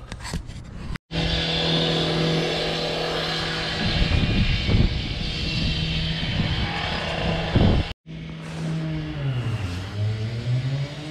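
Briggs & Stratton 3HP engine on a Toro power-handle reel lawn mower running steadily with a droning hum. It cuts out briefly twice, then picks back up with the pitch dipping and rising.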